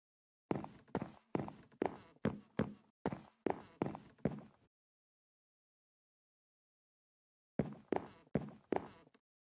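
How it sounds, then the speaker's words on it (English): Video game footsteps walking at a steady, even pace: about ten crisp steps, a pause of a few seconds in silence, then four or five more, close and clear with no talk. "Does he hear footsteps or something again?"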